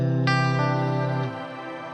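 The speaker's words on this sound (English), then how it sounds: "You've got the shimmer button, which will take your delays up an octave, your reverb up an octave" A sustained guitar tone passes through the Archetype: Cory Wong plugin's shimmer reverb and delay, with octave-up crystalline repeats ringing over the note before the level drops and a softer reverberant tail lingers.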